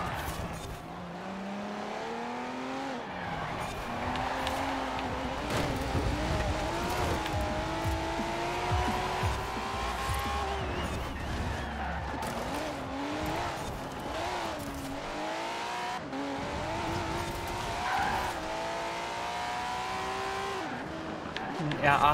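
An all-wheel-drive Audi R8 races in Forza Horizon 4, its engine loud and close as it surges up and down through the gears, with tires squealing at times and someone talking over it.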